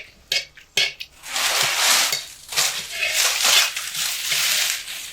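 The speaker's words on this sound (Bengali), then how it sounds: "গরম তেলের মধ্যে গোটা জিরে ফোড়ন দিয়ে দেব আর 4টে শুকনো লঙ্কা।" Whole cumin seeds and four dried red chillies hit hot oil in a pan, a few sharp clinks of utensils followed by a steady, close sizzling and crackling that swells and fades.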